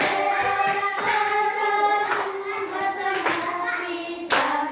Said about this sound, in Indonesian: Yuk sambil tepuk.